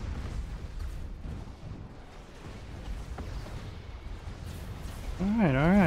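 Weapons fire from a Titan warship during a space battle in the Master of Orion video game, heavy booming shots over a rumbling game soundscape, with a rising warbling electronic tone near the end and someone talking.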